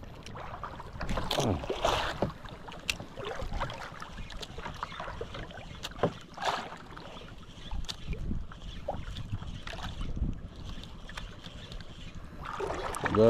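A small fishing boat rocks on choppy sea waves, with water sloshing and knocking against the hull and gusts of wind across the microphone, steady and close throughout with no one speaking.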